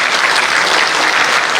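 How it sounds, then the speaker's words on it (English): Loud, dense audience applause at a live launch event, a continuous wash of many hands clapping close by with no gaps across the short stretch. "I want to give a nice hand of applause to Mr. Justin Holiday, everybody."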